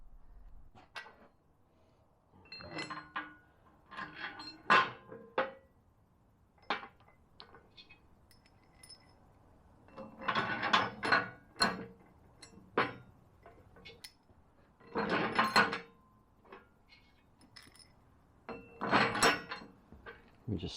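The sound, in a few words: long bolts and spacers handled fitting a recovery hook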